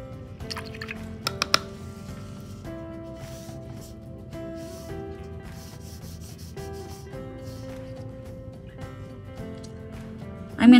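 A brush works wet-on-wet watercolor paint across paper in soft, continuous rubbing strokes with faint wet dabs, quiet and close, mixed with light background room tones.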